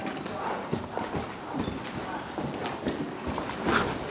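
An unstarted young mare moves and bucks around an arena during a colt-starting session, her hooves thudding in an irregular clip-clop rhythm with a soft snort or two, fairly close.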